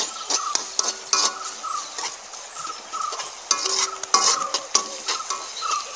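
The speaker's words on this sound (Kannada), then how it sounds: "ಕರ್ಬೇವು ಹಾಕ್ಕೊಂಡು ಒಂದು ರೌಂಡು ಮತ್ತೆ ಫ್ರೈ ಮಾಡ್ಕೊಬೇಕು." Curry leaves frying in a pan for a village-style crab dish, with a soft sizzle broken by repeated clinks and scrapes of a utensil stirring against the metal, steady and close.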